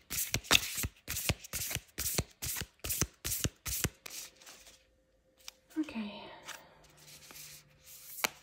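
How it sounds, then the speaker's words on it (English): Tarot cards are shuffled quickly in a rapid run of crisp riffling bursts, followed by a few softer handling sounds and brief quiet, close up. "Okay, so I'm going to shuffle."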